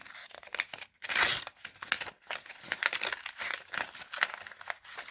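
Paper crinkles and rustles as a small paper surprise packet is opened by hand, in irregular bursts of crumpling and tearing close up, with brief pauses between handlings.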